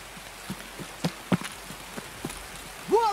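Rain in the video game Escape from Tarkov: light pattering drops ticking on surfaces at an uneven pace, faint and close, with a brief tonal chirp near the end.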